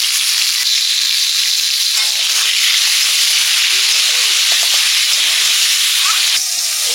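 Potatoes for a meat curry fry in oil with a loud, constant sizzle and hiss, broken by light stirring clatter and spatter pops throughout.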